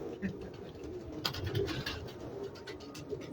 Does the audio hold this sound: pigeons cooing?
yes